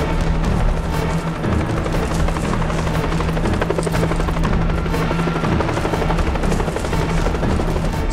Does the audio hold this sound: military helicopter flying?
yes